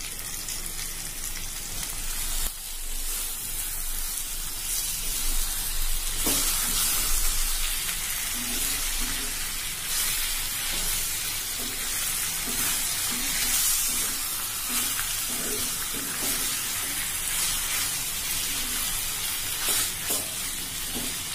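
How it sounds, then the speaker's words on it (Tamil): Prawns frying in masala for prawn thokku, a loud continuous sizzle and crackle lasting throughout, with a few soft stirring knocks and no voices. "இப்ப இதுல இறால் போட்டுக்கலாம்"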